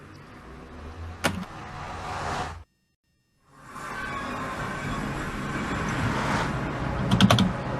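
Computer keyboard typing during a Minecraft Realms session, a steady stream of close, fairly loud clatter that stops briefly partway and resumes with a few sharper key hits near the end.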